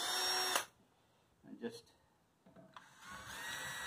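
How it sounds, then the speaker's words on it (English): A cordless power drill fitted with a 9/16 socket and set to high torque, adjusting the height on a DeWalt planer, whirs loudly at the start, then again in a steady run near the end, with a short burst in between and brief speech. "Take my drill with the 9/16ths. I'm going to set that on high torque."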